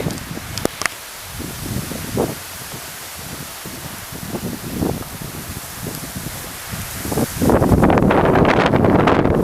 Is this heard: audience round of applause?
no